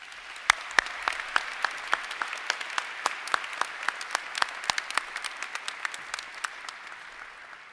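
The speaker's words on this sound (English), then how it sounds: "Please join me in applauding these special guests." At a college commencement ceremony, applause for special guests comes as distinct, fairly regular individual claps over a soft background of wider clapping, steady and moderately close for several seconds.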